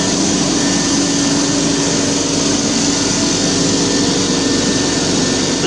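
An exhaust blower fan on a laser engraver runs as a loud, steady broadband whoosh with a low hum underneath, constant throughout with no talk.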